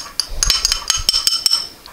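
Metal utensils clink and tap against a bowl as egg yolks go in with cream cheese, a run of short, close, bright knocks spaced irregularly.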